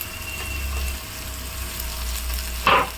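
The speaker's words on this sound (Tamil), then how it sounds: "இப்போ வந்து நம்ம தக்காளி போட்டுக்கலாம்." Tomatoes drop into a hot pan of oil for white peas gravy, giving a steady, close sizzle that swells into a sharper burst of frying near the end.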